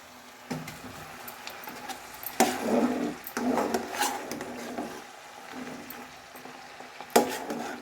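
Cabbage and chana dal curry stirred in a pan, with scraping, shuffling strokes arriving in uneven bursts against a faint background hiss.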